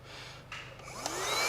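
A handheld car vacuum runs inside a car, its steady motor whine rising slightly in pitch and loudness over a short stretch, close and without talk.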